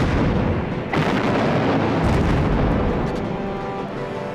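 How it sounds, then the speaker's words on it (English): Heavy artillery bombardment on Singapore's defences in February 1942 during the Japanese assault, a dense continuous roar of blasts and rumbling explosions that stays loud throughout. "He launched a devastating artillery bombardment and relentless air attacks."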